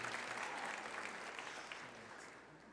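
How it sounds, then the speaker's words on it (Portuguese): Church congregation at the Edenis church anniversary applauding Sibeli's upcoming birthday; a quick burst of crowd clapping, soft and somewhat distant, tapering off after a couple of seconds. "Uma salva de palmas para a Sibeli, que faz aniversário amanhã."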